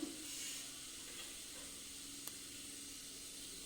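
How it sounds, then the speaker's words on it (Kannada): Cumin seeds sizzling in hot oil for Hyderabadi dal: a soft, steady frying hiss that stays low and even throughout, with one brief click partway through. "ಈಗ ಎಣ್ಣೆ ಕಾದಿದೆ ಜೀರಿಗೆ ಹಾಕ್ತಾ ಇದ್ದೀನಿ"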